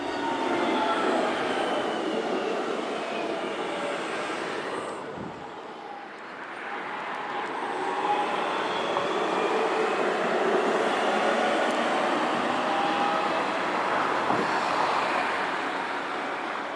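A Wirye line tram on a test run rolls past with a steady broadband rumble and hiss of wheels on rail, easing briefly midway before the noise builds again and holds, with faint squeal.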